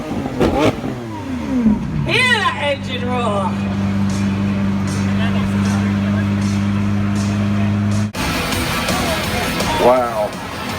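A car engine revs hard and then holds a steady, droning high pitch for several seconds at the Gumball 3000 rally in London, with crowd noise and voices around it.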